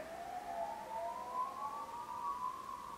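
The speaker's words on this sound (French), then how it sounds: "On entend des sirènes." A wailing siren rises and falls steadily, sustained throughout over a low background hum, fairly distant and alone.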